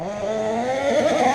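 The electric motor of a CEN Genesis limited edition RC truck with worn rear links whines and rises in pitch as it accelerates, close and continuous for a brief stretch.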